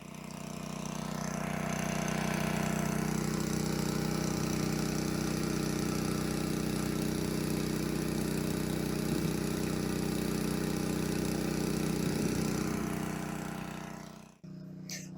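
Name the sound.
generator engine running, pumping out a well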